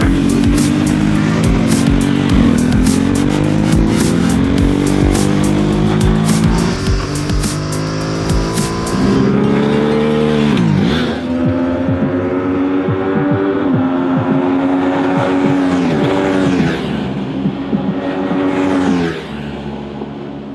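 A Ducati SuperSport motorcycle engine revs loudly and close, its pitch climbing and dropping through repeated throttle blips and gear changes, with a rough, steady drone throughout.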